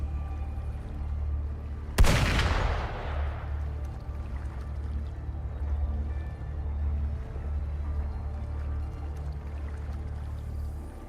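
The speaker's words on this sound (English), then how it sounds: "Gunfire! We've got intruders." A single sharp video game gunshot rings out, then decays into a low rumbling ambience with a steady hum underneath.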